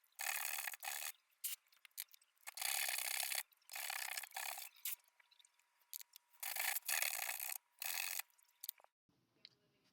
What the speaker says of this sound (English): I finished sanding all the pieces